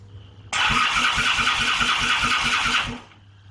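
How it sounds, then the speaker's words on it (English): A Triumph T140 motorcycle engine cranks over on a Meriden electric starter for about two and a half seconds, giving a steady, loud, rhythmic churning whir with regular compression pulses, then stops abruptly. "Ignition. Kill switch off. Turn her over."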